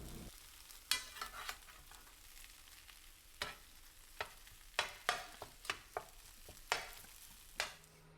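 Corned beef hash crisping in a pan, with a soft continuous sizzle punctuated by a series of sharp scraping and tapping hits from a utensil stirring and turning it, faint and close.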